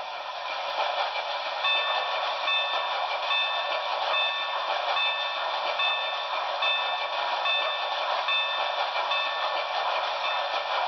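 A locomotive bell from the sound system of a Broadway Limited C&O L-1 Hudson #490 brass hybrid model steam engine, Paragon 3, clangs in a steady, regular rhythm over a continuous hiss for about ten seconds.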